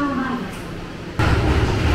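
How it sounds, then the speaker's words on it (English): A new red commuter train in Japan runs steadily, and a louder burst of rumble and rail noise kicks in partway through, close and continuous. "I'm going to get on this red train and head for Shinjuku."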